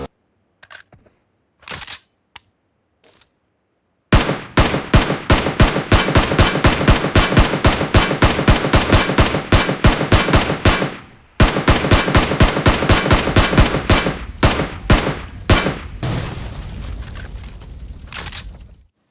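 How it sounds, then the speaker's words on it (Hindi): SCAR-L rifle gunfire in the PUBG Mobile video game, shooting at a buggy until it blows up: a few scattered shots, then long, loud, rapid automatic bursts with a brief pause between them, and no talk. "सरप्राइजिंगली यहाँ पे स्कारल की भी 38 एमओज ही लगी बग्गी को ब्लास्ट होने पे।"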